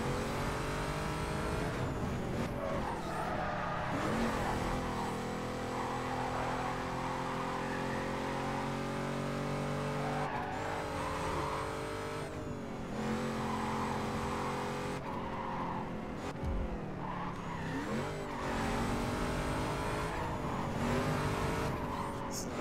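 Mazda RX-7 in Need for Speed Carbon, its engine droning steadily with rising and falling revs, shifts and occasional tire skids, loud and continuous throughout with game music layered over it.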